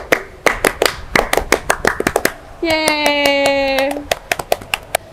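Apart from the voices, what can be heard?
group doing the Pramuka scout clap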